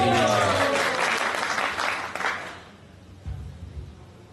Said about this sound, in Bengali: প্রভুর জন্য একটা জোরে হাত তালি।